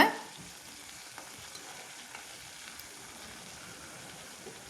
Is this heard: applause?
no